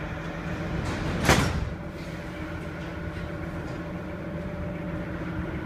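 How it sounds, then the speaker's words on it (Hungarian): Sliding doors of an M3 line Ev3 metro train shut at Újpest-Városkapu station in Budapest: one sharp, loud swish-and-thud a little over a second in, over a steady low hum of the waiting train. "Kérem, vigyázzanak, az ajtók záródnak."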